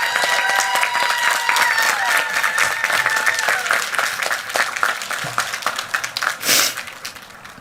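Loud, steady applause at a 2023 commencement ceremony thanking the standing faculty members, dense clapping with crowd murmur and a few sharper claps near the end.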